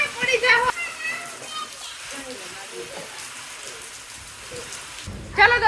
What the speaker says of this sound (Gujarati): તો અત્યારે જોરદાર વરસાદ ઘડીક વાર તો આવ્યો, પણ અત્યારે પણ આવે જ છે વરસાદ